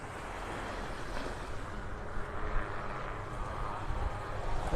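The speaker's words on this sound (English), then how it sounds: "Spray helicopter going by. Back and forth this morning again." A spray helicopter passes back and forth over Vanderbilt Beach in North Naples, Florida, its engine a steady, distant rumble blended with wind and surf, swelling slightly near the end.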